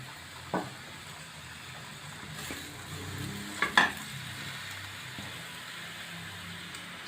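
Potatoes fry in oil with a low, even sizzle, broken by a few sharp clinks of a utensil against the pan near the middle.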